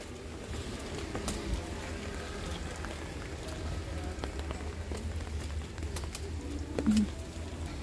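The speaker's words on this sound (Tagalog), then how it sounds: "Naulan pa rin siya, guys." Steady light rain falls at a pagoda in a flower garden in the middle of a hillside, a soft continuous patter with scattered louder drips and birds calling faintly, no talking.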